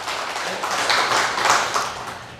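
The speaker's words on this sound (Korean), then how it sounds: "박수 하시겠습니다." A church congregation claps together at a Galilee church in Incheon, a short burst of dense, close applause that swells and fades within a couple of seconds.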